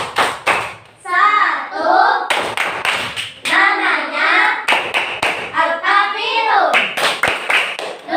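Children's rhythmic hand-clapping chant for Surah Al-Kafirun in a classroom lesson: bursts of sharp claps interleaved with a voice calling out the numbered verses, the claps falling in quick regular groups between lines of speech.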